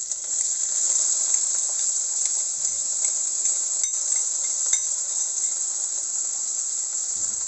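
Capsicums drop into hot oil already crackling with cumin seeds, giving a steady, bright sizzle that holds evenly throughout, with faint stirring scrapes and no talking.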